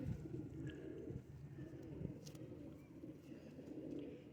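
Pigeons coo softly and continuously in a quiet loft, with faint bird chirps and small rustles over low background murmur.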